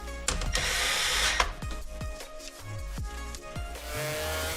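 Tool and ratchet clicks while a torque wrench tightens the coil-on-plug bolts on a 2.4 liter Ecotec engine, heard as repeated sharp metallic clicks and clacks over a steady background hum, with short pauses between strokes.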